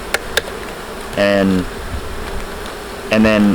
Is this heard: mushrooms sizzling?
no